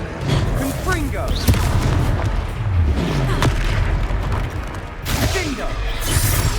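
Explosive spell blasts in the Hogwarts Legacy video game, booming impacts over a dense, continuous roar of combat effects and music, loud and busy throughout.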